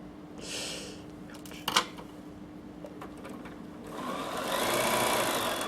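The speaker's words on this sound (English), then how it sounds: "So you do need to listen to your machine." A Bernina 7 Series sewing machine stitching close by, starting with a short hum, a sharp click, then a sustained faster whir building toward the end, moderately quiet.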